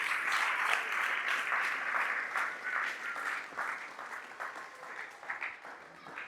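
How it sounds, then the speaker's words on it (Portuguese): Church congregation applauding during a Lord's Supper service, a steady wash of many hands clapping throughout, moderately loud with some voices mixed in. "Você pode aplaudir bem forte e dar uma glória a Deus aí?"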